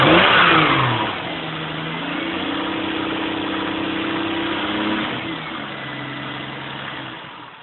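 Lexus SC300 engine fitted with a billet 6765 turbo at its first start-up, opening with a loud rev that settles into a steady mid-pitched drone, then a second smaller rise and fall, close and alone without talk.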